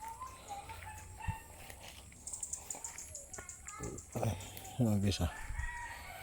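Chickens and a rooster on a hillside farm, with clucks and a short crow rising near the end, heard under a voice talking.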